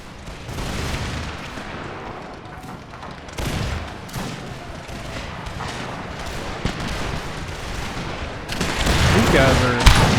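Musket volleys in a battle in Empire: Total War, a dense, continuous crackle of overlapping gunshots and booms that thickens into a louder burst near the end, with a voice faintly present underneath.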